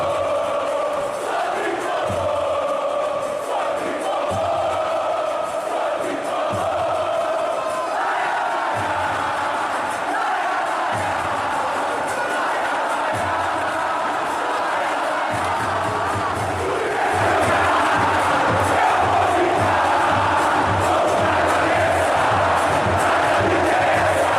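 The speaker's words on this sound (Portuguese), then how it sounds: "vamos começar com um dos principais cantos da nossa torcida" Fluminense supporters in the stands chant together at the season's first match, a massed crowd singing in rhythmic unison that grows louder and fuller in the second half.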